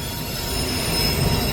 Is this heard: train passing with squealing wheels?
yes